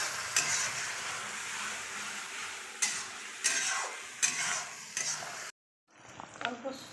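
A fried, ground spice paste for paneer curry sautés in a pan with a bright continuous sizzle, broken by several sharp stirring scrapes and clinks, then a brief silence before quieter frying resumes.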